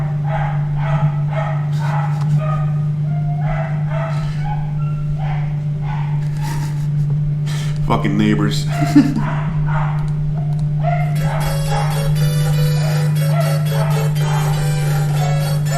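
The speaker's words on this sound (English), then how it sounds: "Can you hear the dog outside?" Dog barking outside, repeated loud barks and yips in irregular bursts over a constant electrical hum, with a man muttering briefly in between.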